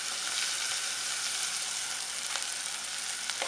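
Onions and garlic sautéing in coconut oil in a pan, with a steady, even sizzle, dense and close, and a few faint clicks of stirring, alone with no voices.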